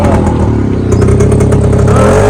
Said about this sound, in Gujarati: રોહન ને વિશાલ બી આવી ગયા બાઈક લઈને